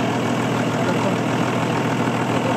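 A 4x4 truck engine idles steadily close by, rumbling at an even pace, with no clear change in speed.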